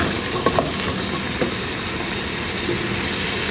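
Boiled chickpeas frying in a hot pan, a loud continuous close-up sizzle with a few soft clinks and stirring bumps, and no one talking.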